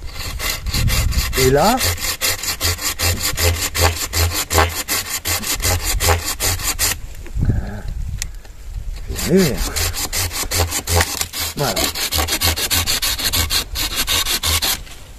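A hand saw cuts through wooden oars in long, rhythmic back-and-forth strokes. The rasping is close and loud, with a short pause partway through and a brief French remark between strokes.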